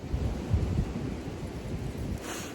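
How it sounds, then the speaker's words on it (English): Strong gusty wind roars across a garden of raised beds, a dense low rumbling buffet on the microphone, steady and loud throughout with no voices. "this wind is whipping"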